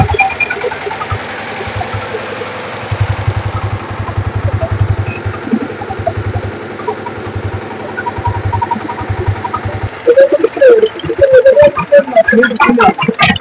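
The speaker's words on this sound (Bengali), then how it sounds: "তো টিলারটা হচ্ছে আমি স্টার্ট দিয়ে দেখাবো" A used power tiller with a 24-horsepower engine is started and runs at a rough, chugging idle, loud and close. About ten seconds in, the engine note grows harsher and more rattling as it revs up.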